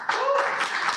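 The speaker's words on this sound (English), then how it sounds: "Let's do applause as we go through" Short burst of audience applause for award nominees at a football team's annual awards show, rising quickly and holding at moderate level for about a second.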